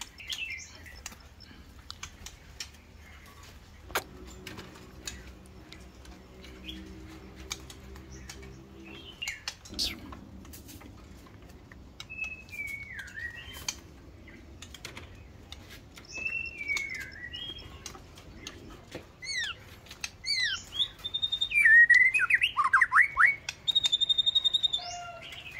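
White-rumped shama calling with varied whistled phrases and chirps that grow louder and busier toward the end, over a quiet room with a short low hum, scattered taps and clicks, no talk.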